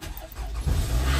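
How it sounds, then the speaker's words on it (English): An old car's engine cranks and catches, low rumble building and growing louder in the last half second, close and alone with no talk. "I haven't driven my car in over a month, so let's see if this thing even starts because she's old."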